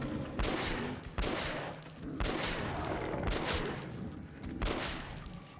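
Gunfire in Metro Last Light, heavy shots firing in a steady rhythm about once a second, each a loud, close blast that leaves a short rumbling tail.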